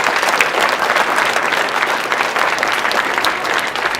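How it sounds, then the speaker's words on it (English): An audience at a school student recognition program applauds parents and grandparents, a loud, sustained wash of many clapping hands filling the room throughout. "So I think you need to give them a round of applause."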